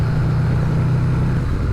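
A turbocharged Harley-Davidson CVO Road Glide ST with a Trask turbo, rated at 203 hp and cruising in third gear on a road, gives a loud, steady, low engine drone that holds even across the short stretch, with no talk.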